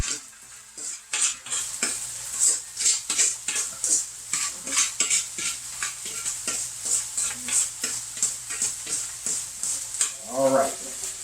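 Potatoes frying in hot oil are stirred steadily, a bright sizzle broken by rhythmic scraping and clinking of a utensil against the pan, with no one talking.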